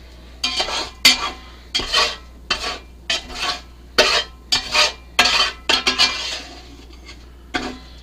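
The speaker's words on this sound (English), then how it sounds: "We'll take our spatula, get the rest here." A spatula scrapes seared, seasoned low-grade beef out of one pan and into a pot, making about a dozen close, loud scraping strokes in an uneven rhythm with short pauses between them, with no talking.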